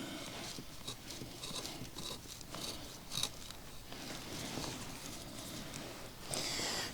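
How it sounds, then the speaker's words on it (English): A chisel carefully pares loose wood fibers on a dovetailed bench hook, giving faint, steady scraping and light cutting scratches close by, with no talking. "take my chisel and then just carefully go in there and cut"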